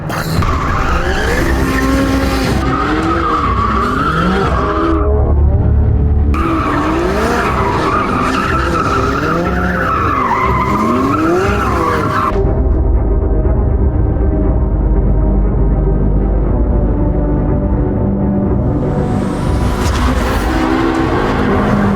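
A McLaren 675LT's powerful engine roars and revs during a burnout while tires squeal and skid in long screeching waves, loud and close, with the engine droning on afterward.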